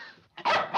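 A dog gives a short bark in a courtroom, a single close, loud yelp rising sharply after a brief whine.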